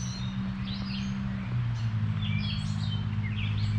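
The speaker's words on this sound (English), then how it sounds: "you'd be able to hear the birds and stuff in the background." Several birds chirp and tweet faintly in the distance at Fellows Riverside Gardens, Mill Creek Park, Youngstown, Ohio, over a constant low hum, short bright calls scattered throughout.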